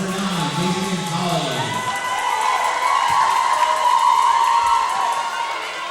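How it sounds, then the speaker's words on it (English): Basketball crowd cheering and whooping as substitute Jason Holly, nicknamed J-Swag, enters the game; a loud, sustained roar from many voices with shrill shouts rising over a busy arena din throughout. "And the crowd seems to love J-Swag."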